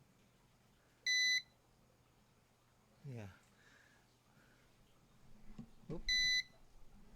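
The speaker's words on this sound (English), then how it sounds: "It's beeping because it's not hooked up to the outlet from the house." A portable standby generator's alarm gives two short, loud electronic beeps about five seconds apart, with quiet background noise and brief talk between them.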